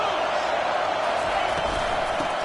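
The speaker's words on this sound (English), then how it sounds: "this crowd is turning it up a notch" Steady roar of a college football stadium crowd during an NCAA game, a dense wash of cheering and yelling that holds loud and even for a couple of seconds with no break.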